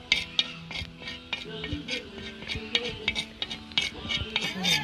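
Turmeric frying on a hot tawa griddle, stirred with a metal utensil that clinks and scrapes in a steady, busy rhythm, close up, with a voice speaking over it.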